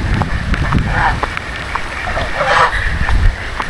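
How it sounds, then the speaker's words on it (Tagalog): Strong gusting typhoon wind buffeting the microphone with a rumbling roar, steady and close, with faint voices underneath. "grabe yung bagyo guys"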